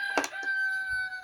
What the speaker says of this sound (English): Oh, we got the rooster.